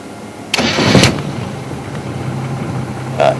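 A safari vehicle's engine cranks and starts during a night lion-viewing drive, a short loud burst that settles into a low steady idle, close up, with a brief rise near the end.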